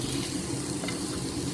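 Tofu slices sizzle on a grill in a steady, dense hiss that stays even and unbroken from start to finish.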